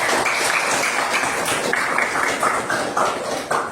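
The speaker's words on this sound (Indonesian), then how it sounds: "Mana tepuk tangannya?" Students in a classroom clap together in a loud, close burst of rapid hand claps that continues for a few seconds, uneven and slightly choppy, with no talking.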